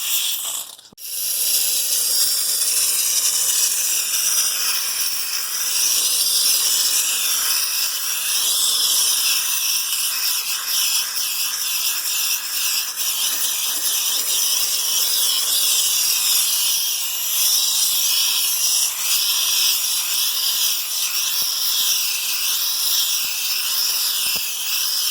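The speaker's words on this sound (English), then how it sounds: "I've got a steam cleaner here" Steam cleaner jetting onto the undercarriage of a 1985 Mercedes 300CD, a loud, continuous close-up hiss that holds steady for the whole stretch after a brief start, with no talking.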